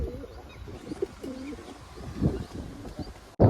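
Soft, low coos of domestic pigeons in a loft repeat a few times nearby over a quiet background, with a brief clatter at the very end.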